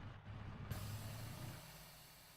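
Truck air brakes in a video game hiss out in a single short burst of released air, followed by a low engine rumble that fades away.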